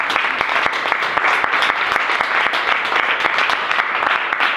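An audience at a book launch in a bookstore applauding to welcome a reader, steady close clapping from many hands that fills the whole stretch without letting up.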